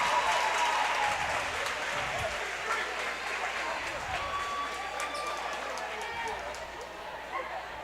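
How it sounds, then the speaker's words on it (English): A high school volleyball student section cheers on its own during a timeout, a dense continuous roar of voices with stomping and clapping, loud and sustained throughout. "Got to appreciate the student body section there doing a little cheering on their own during the timeout"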